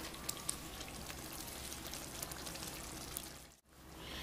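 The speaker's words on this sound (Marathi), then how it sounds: "यामध्ये मी पाणी टाकणार आहे, जी चवळी शिजवलेलं पाणी होतं तेच मी यामध्ये टाकते।" Cooking water from boiled black-eyed peas pours steadily into a curry for about three and a half seconds, a continuous watery splash and patter that cuts off abruptly, followed by a quieter moment.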